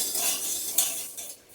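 Water goes into frying dal in a pan for kachori filling, producing a brief hissing sizzle with a spoon stirring and scraping against the metal, close and moderately loud.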